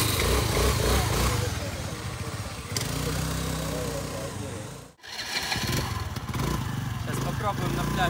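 A motorbike engine runs steadily on a beach outing, a loud continuous rumble with a brief cutout midway before it picks up again, with people talking over it.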